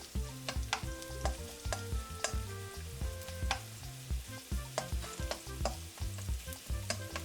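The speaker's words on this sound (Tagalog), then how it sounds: "Tapos pagka mainit na yung ating olive oil, magigisa lang tayo ng garlic." Garlic sautés in hot olive oil, a steady close crackle and sizzle with rhythmic stirring clatter throughout, no voices.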